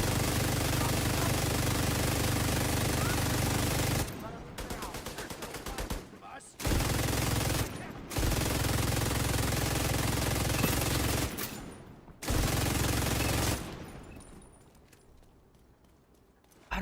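Rapid automatic gunfire from a Centurion rifle in The Division 2, loud and close, coming in dense bursts separated by short pauses, with a quick crackling volley in the middle and fading echo at the end.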